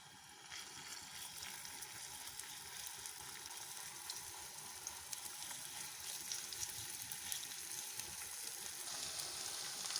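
Garlic frying in half a cup of hot oil in a pan, a steady, dense sizzle with faint crackling that holds evenly and close throughout, with no voices over it.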